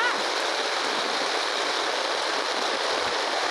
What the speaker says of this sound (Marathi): सोयाबीन काढताना बघा पावसाचा धो धो पाऊस चालू.